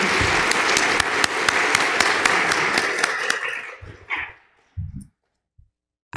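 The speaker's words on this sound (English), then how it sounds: "Can we give another round of applause to our panelists?" An audience at a social justice lecture applauds its panelists, dense clapping with sharp individual claps standing out, then thinning and stopping after about four seconds, followed by a few isolated thumps.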